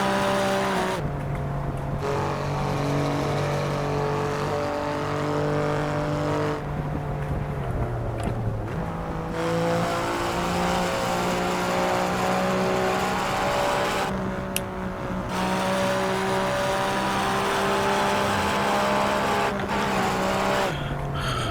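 An Alfa Romeo Giulia Quadrifoglio engine in the Assetto Corsa racing game, loud and close, revving up and dropping through repeated gear changes over a continuous drive, with bursts of tire squeal.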